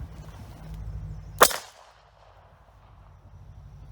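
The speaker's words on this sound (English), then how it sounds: "we've got the Czechoslovakian VZ50 pistol, chambered in 32 ACP" A single sharp pistol shot from a Czechoslovakian VZ50 chambered in .32 ACP, firing a 71-grain full metal jacket bullet into the front of a Polish Wz. 67/75 steel helmet, loud and abrupt, then quiet background hum.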